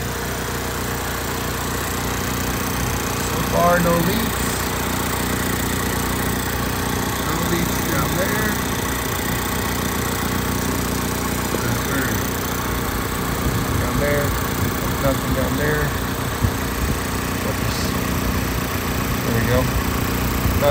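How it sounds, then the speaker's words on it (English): A VW MK7 GTI with the EA888 engine idles after a PCV breather hose install, a steady low engine hum running throughout while a person talks over it. "The car is running, as you can tell, as you can hear."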